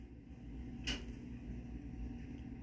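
A drawer holding diecast model cars slides open with one brief, soft scrape and thud midway, against a low room hum.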